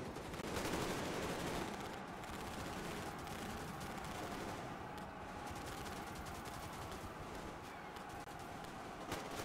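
Faint gunfire in a video game's main menu, a continuous dense crackle of distant shots and bursts under a steady noisy background, with no voices.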